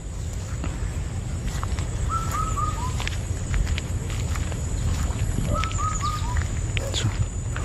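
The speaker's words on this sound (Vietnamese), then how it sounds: "Tiếng chim nghe hay quá." Birds calling near brackish water: two short phrases of descending whistled notes, moderately near, against a constant outdoor background noise.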